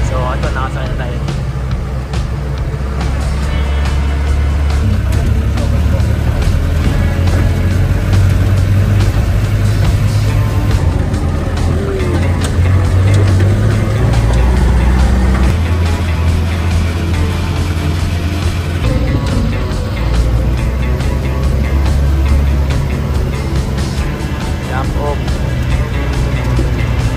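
A jeep ride to the Aw-Asen Falls jump-off in Sigay, Ilocos Sur: a steady, loud engine drone and road rumble run throughout, with rattles and knocks from the vehicle.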